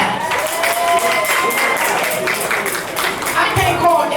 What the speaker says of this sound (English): So can you give Altatara a hand clap?